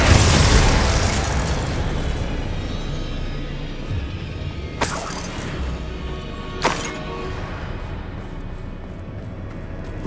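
The Confringo blasting spell going off in Hogwarts Legacy, a loud booming explosion up front that rolls into a long fading rumble, with two sharp cracks landing later in the decay.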